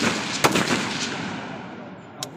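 Gunfire at an army firing drill training villagers outdoors, a few sharp reports, two or three loud cracks early on with a fainter shot near the end, each ringing out in open air.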